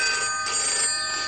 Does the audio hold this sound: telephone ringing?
yes